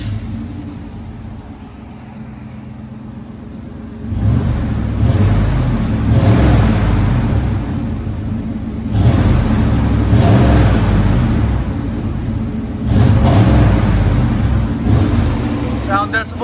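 A Chevy/GMC 5.7L V8 with dual exhaust idles with a low rumble, then revs hard in three loud, deep bursts separated by settling back toward idle.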